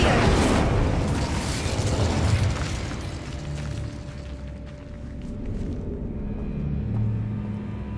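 An Incendio fire spell cast in Hogwarts Legacy, a loud whooshing burst of flame with a booming rumble that fades into a crackling, low roar of burning.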